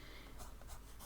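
A pen scratches across paper as a quote is written by hand, faint, close strokes in short bursts against a quiet background.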